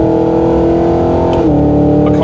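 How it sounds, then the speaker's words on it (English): A 2023 Cadillac Escalade-V's exhaust revs loudly and steadily up close, its engine note dropping sharply midway as it shifts and settles into a lower, rumbling burble. "they hear the exhaust and the down burbles"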